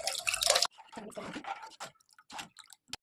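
Dal cooking water is poured into frying masala for a Marathi amti: a loud splashing, sizzling burst at the start, followed by quieter intermittent liquid and stirring sounds with someone talking.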